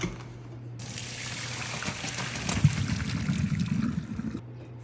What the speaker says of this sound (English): So I need to strain the water.